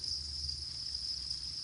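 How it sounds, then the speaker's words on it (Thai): White crickets on a cricket farm give a steady, continuous high-pitched trill that holds unbroken and moderately loud, with a low background rumble underneath and no talking. "สำหรับยูฟาร์มของเรามันมีจิ้งหรีดอยู่2 สายพันธุ์เนาะก็คือพันธุ์จิ้งหรีดพันธุ์ขาวแล้วก็จิ้งหรีดด ำ"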